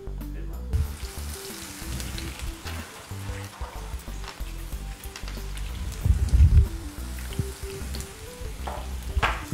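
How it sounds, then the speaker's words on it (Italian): Steady sizzling and crackling of eggplant frying in hot olive oil, loud and close, with occasional bursts of stronger bubbling. "Sfrigola, quindi possiamo andarle a friggere."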